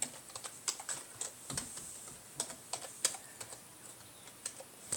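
Someone types a password on a computer keyboard, a run of quiet, irregular key clicks with short pauses. The clicks sit close and faint over a low room hiss, with no voices.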